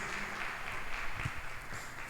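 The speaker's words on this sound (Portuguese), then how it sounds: "Uma salva de palmas para os nossos visitantes em nome de Jesus." Church congregation applauding visitors during an Easter Sunday service in Vila Velha, a steady, dense wash of many hands clapping heard from a distance in a reverberant hall, with no talk.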